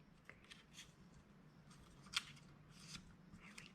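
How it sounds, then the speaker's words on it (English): Scissors trimming a small piece of paper for a quilling butterfly: a few quiet, close snips spread across a few seconds, with one sharper cut near the middle, over a soft hush. "This is a little too big to fit in there, so I'm going to trim it."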